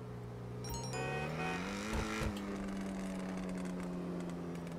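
An Ocelot Jugular sports car in GTA Online revs up, sending out a short cluster of sharp exhaust pops at the peak. The engine then settles back into a steady, close idle drone with no talking.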